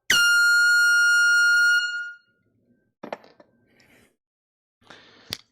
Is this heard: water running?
no